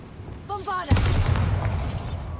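A Bombarda spell detonates in Hogwarts Legacy, a sharp, loud blast with a rumbling tail that fills the rest of the moment, just after a voice calls out the spell.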